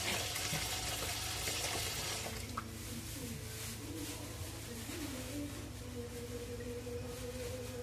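A household faucet runs in a steady, faint gush of water, with quiet voices murmuring in the background.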